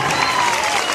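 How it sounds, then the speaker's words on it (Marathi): Audience clapping steadily at a women's Paithani prize contest in Maharashtra, a dense, continuous wash of hands filling the hall for the whole moment with crowd murmur mixed in. "टाळ्या जोरदार"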